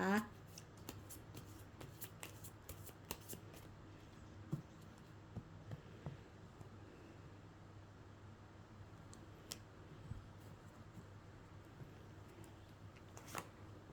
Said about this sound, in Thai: ขอเป็นตัวแทนจับไพ่ตัดไพ่ให้คนเกิดวันเสาร์ค่ะ